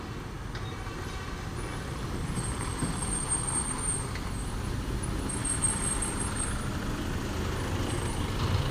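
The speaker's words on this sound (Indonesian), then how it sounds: "ada truk dari bawah" Heavy loaded truck labouring up a steep uphill road, a low engine rumble that builds and stays loud and close with passing traffic and occasional high hiss, no talking.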